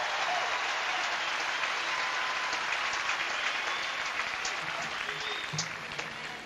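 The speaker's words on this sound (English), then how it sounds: "the crowd giving him prolonged applause" A tennis crowd at Roland Garros in 1995 applauds a player during a fourth-round match, with steady, prolonged, evenly dense clapping from a large stadium audience.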